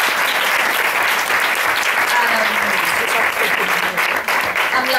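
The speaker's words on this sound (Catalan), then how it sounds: "Un aplaudiment." An audience at a reading-aloud competition quarterfinal applauds loudly and steadily with dense clapping throughout.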